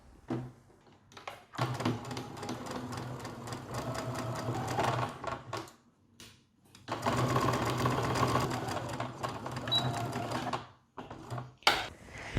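A sewing machine runs a straight stitch along a neckline in two long bursts of rapid, steady needle clatter, with short pauses, quiet handling and a click between and after.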